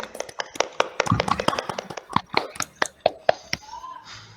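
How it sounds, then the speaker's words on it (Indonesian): A small class of students claps for a classmate, a thin scattered burst of separate hand claps close by with a few young voices mixed in, tapering off after about four seconds. "Yuk kita beri tepuk tangan untuk Rolas."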